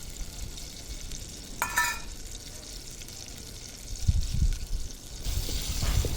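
Onions sautéing in oil in a pan over a wood-fired stove, soft frying sizzle with bursts of stirring and scraping, a sharp clatter early and heavier rumbling strokes near the end, up close with no speech.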